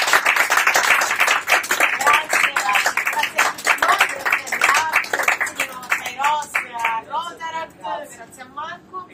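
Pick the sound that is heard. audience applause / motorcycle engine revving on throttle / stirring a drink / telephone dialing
audience applause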